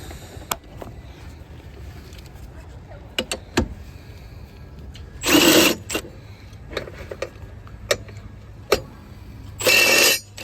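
A 12 mm socket wrench works on the battery hold-down bracket of an Isuzu D-Max, giving sharp metallic clicks and taps with two bursts of rapid ratcheting, close and with no talk.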